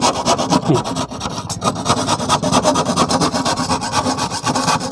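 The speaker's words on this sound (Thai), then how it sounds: "ผม แต่งให้มันเรียบๆเท่านั้นเอง" A hand file rasps steadily back and forth, smoothing the rough edge of a hole cut in a ceiling board for a downlight fitting, a close, continuous scraping rhythm with no voices.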